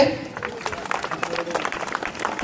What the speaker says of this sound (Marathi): सर्वांनी टाळ्या वाजवायचे.